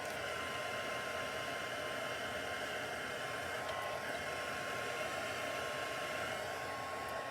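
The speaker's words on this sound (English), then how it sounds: "So I'm just gonna dry it." A heat tool blows steadily on wet alcohol ink paper, giving a constant loud whooshing roar with a faint high whine, unbroken and close throughout, with no voices.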